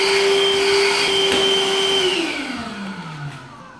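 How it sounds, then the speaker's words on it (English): A vacuum cleaner with a brush attachment runs loud and steady while cleaning plaster dust off a wall, then its motor pitch slides down as it winds down. "Hoover with a brush attachment."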